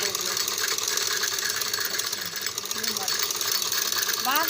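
A domestic sewing machine runs steadily, stitching clothes in a home setting, with a continuous mechanical whir and rapid clatter at close range; people talk over it.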